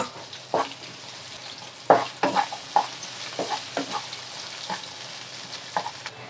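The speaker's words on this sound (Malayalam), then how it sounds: "ഇതെല്ലാം നല്ലപോലെ വഴന്നു ഉള്ളിയും പൊട്ടറ്റോ ഒക്കെ നല്ലപോലെ വഴന്നിട്ടുണ്ട്" Onion and potato sauté in a pan with green chilies and curry leaves for black pepper chicken, giving a soft sizzle broken by a series of light scraping stirs.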